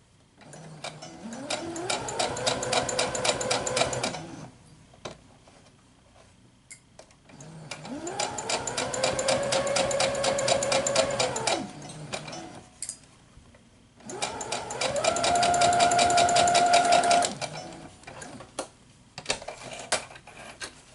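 A sewing machine stitches quilt fabric pieced onto a leader strip in three long bursts of steady, rapid whirring, each ramping up and then stopping, with brief quiet pauses between runs.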